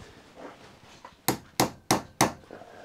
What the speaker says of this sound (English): tap him with a hammer